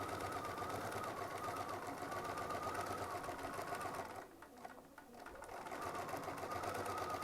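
Sewing machine stitching a quilt medallion with a quarter-inch seam, a steady close whirring run that briefly slows and dips around the middle, then resumes at full speed.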